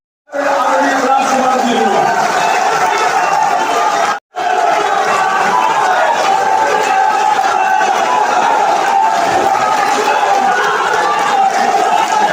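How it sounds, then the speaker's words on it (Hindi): A large crowd at a Bharatiya Janata Party welcome event cheers and shouts together, making a loud, sustained wash of voices with one brief drop near the middle. "जोरदार तालियों से स्वागत करें"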